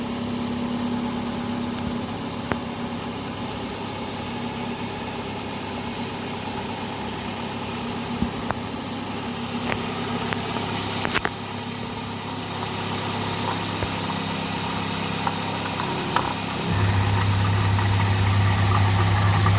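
A used Kia Click's engine idles steadily with the hood open, a continuous mid-low drone with faint mechanical ticks and a deeper hum swelling near the end, heard alone without voices.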